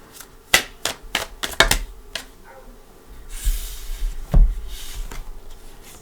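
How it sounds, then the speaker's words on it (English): A deck of tarot cards is shuffled by hand in a quiet room, giving a run of sharp riffling snaps and taps. A softer, longer shuffling rustle follows, with a few knocks as the deck settles. "I'm just going to give it one more shuffle"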